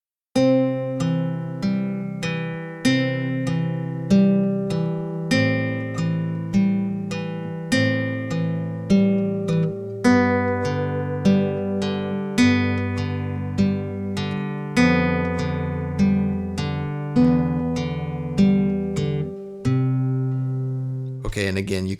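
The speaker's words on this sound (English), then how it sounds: "pluck with the thumb downward and pluck inward with the ring finger at the same time" Fingerpicked acoustic guitar plays a slow, steady arpeggio pattern, the thumb plucking bass notes together with the ring finger. Clear repeated notes ring over shifting chords for about twenty seconds.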